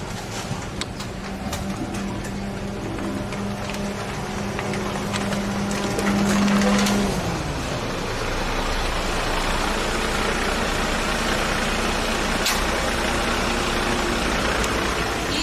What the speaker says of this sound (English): There's traffic here.